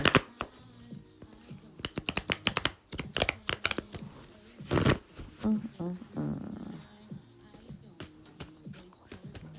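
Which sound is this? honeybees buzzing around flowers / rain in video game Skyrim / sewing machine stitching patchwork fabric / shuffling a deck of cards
shuffling a deck of cards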